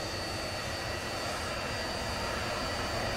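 A steady, powerful roar from the jet engines of an Antonov transport aircraft, close and continuous, a thick rumble with a thin high whine, swelling slightly toward the end, no talking.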